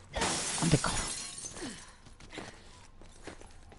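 Glass shatters in the video game Resident Evil Revelations 2, a sharp crash with scattering shards near the start, followed by faint footsteps and rustling movement.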